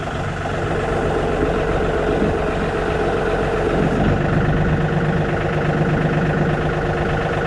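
A turbo GMC truck engine idles and runs steadily while the truck backs up slowly during bed removal, a loud, close, continuous low rumble with no speech over it.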